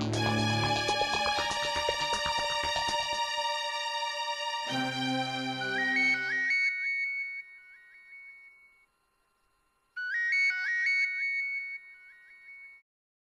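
Loud music gives way to an electronic ringtone: a bright, repeating melodic trill that plays, stops for about a second, then rings again.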